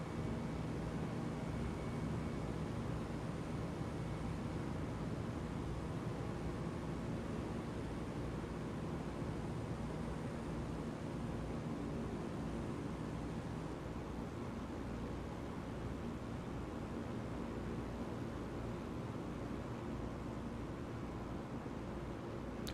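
A steady, loud drone from the engines of a DHC-4 Caribou in a flight simulator, flying low over a lagoon in New Zealand. The broadband rumble holds unchanged throughout with no talk.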